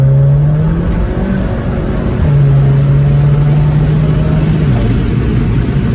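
A Volkswagen Mk7 GTI with an IS38 turbo and DSG tune accelerates hard from 40 to 90 mph, a loud, close, continuous engine drone climbing in pitch with a brief shift dip midway.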